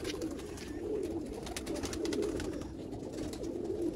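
Several Sialkoti black-faced pigeons of the Sheikhon wale strain coo in a loft, a continuous overlapping murmur of low throaty coos, close and steady, with no talking.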